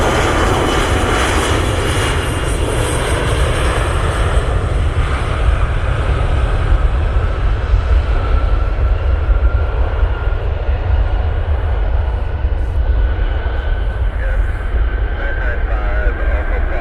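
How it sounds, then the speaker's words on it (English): A United airliner inbound from Newark comes in to land at Cleveland, its jet engines a loud, steady broadband roar that fills the whole stretch without letting up. "Air Force One is pretty close behind to the United flight that's inbound"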